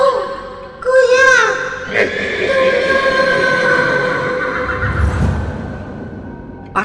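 A loud horse neigh voiced for a giant half-horse enchanted creature in a Tagalog horror drama, a shrill whinny rising at the start, then snorting and rumbling movement behind.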